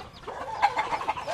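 Chickens cluck on a farm in a series of short, fairly close calls that come in quick succession.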